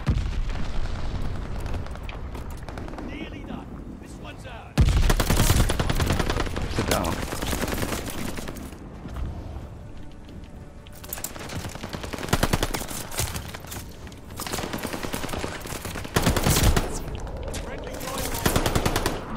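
Rapid MP40 submachine gun fire in Call of Duty Vanguard multiplayer, with loud, dense bursts that carry through most of the stretch and sharp onsets near the start and middle, layered with other battle noise and explosions.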